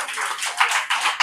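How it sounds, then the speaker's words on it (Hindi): A church congregation claps together in faith during a sermon, a short burst of dense, rhythmic hand claps close by. "जोरदार एक विश्वास के ताली परमेश्वर की"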